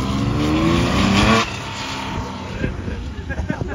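A naturally aspirated Porsche engine revs hard with a rising harmonic wail, then cuts off and settles into a rougher, burbling idle, loud and close, with voices talking over the latter part.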